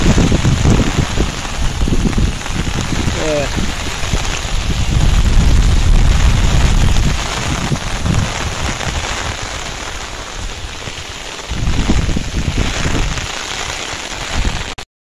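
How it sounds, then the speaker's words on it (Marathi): Heavy monsoon rain pours down steadily over village fields, a dense broadband hiss with some louder surges, no one speaking. "पाऊस पण जाम लागला आहे."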